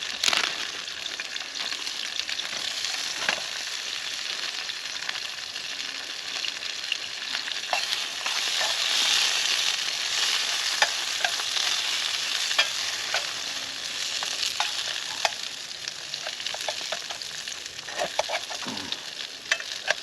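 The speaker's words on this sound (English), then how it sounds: "now I'm gonna put some sausages in there" Sausages with jalapeños sizzling in a pan over an outdoor fire on a snowy morning, a steady close crackle and hiss with scattered pops and scraping throughout, no voices.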